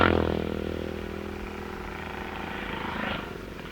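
A Norton racing motorcycle engine roars past at a road race with a flat, droning exhaust note, loud at first and then receding, with a second swell near the end.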